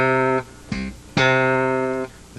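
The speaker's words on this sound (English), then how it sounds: "we're going to play a short tone on the bottom and a long tone on the top" A slap bass guitar plays a short low note that cuts off quickly, then a brief plucked tone and a long, ringing higher note that sustains for about a second before stopping, clear and alone.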